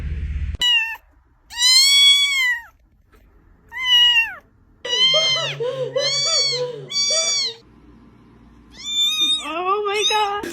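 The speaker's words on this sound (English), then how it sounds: "You have the cutest little meow." Cat meowing several times in clear, drawn-out calls separated by short pauses, some higher and some strained, close to the listener, with a person's voice talking between and over the meows.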